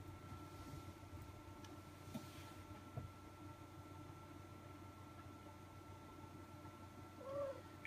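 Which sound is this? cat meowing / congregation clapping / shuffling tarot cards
cat meowing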